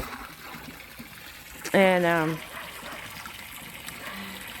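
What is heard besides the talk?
water filling horse water troughs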